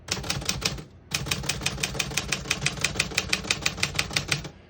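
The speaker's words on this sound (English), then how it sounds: "all the keys type nice and none of them stick or skip" A 1949 Smith-Corona Silent portable typewriter types in a rapid, even run of crisp key strikes after a brief pause, each keystroke loud and close over a low mechanical rumble.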